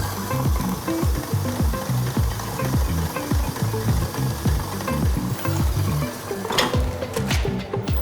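An electric stand mixer beats soft buttercream at high speed, a continuous loud mechanical whir with a rapid rhythmic clatter of the beater, steady throughout with no talking.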